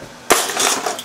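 A stack of metal canning jar rings is snatched up while pressure canning butter, a sudden bright clattering jingle followed by a brief rattle of metal rings, close and alone.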